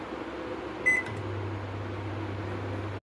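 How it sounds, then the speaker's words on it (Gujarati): An oven preheats for a homemade pizza: a steady low hum starts after a brief click and a short beep, then drones on quietly and evenly until a click near the end. "આપણે પ્રીહીટ કરવા ઓવન મૂકી દેશું અને 5 મિનિટ સુધી આપણે પ્રીહીટ કરશું ઓવનને"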